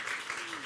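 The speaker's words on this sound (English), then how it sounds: "A big applause for you." Conference audience applauds briefly after a speaker, soft distant clapping that fades within a second, faint and somewhat muffled.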